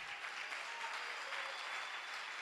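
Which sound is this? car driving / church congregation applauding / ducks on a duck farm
church congregation applauding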